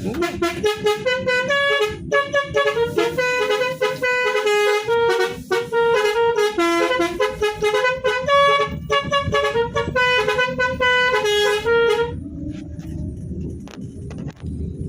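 Bus telolet horn played by the driver, a loud, close run of bright musical toots in quick melodic bursts for about twelve seconds, then stopping with only faint vehicle noise left.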